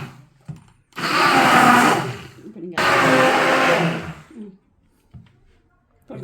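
An electric grinder whirs through spices and sugar in two loud bursts of about one and a half seconds each, separated by a short pause, with quiet gaps and small knocks afterward.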